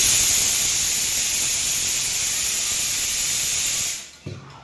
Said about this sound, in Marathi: आता फिट्या वाजते